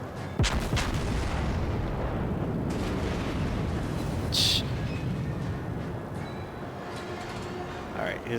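Naval gunfire from the battleship New Mexico in a video game, heavy booming blasts and rumbling over a dense, continuous battle din, with a voice talking over it.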